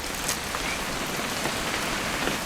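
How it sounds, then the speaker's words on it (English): Rain falling in the video game What Remains of Edith Finch, a dense, steady hiss of drops hitting surfaces that fills the whole moment without pause. "It's gonna rain the whole weekend, isn't it?"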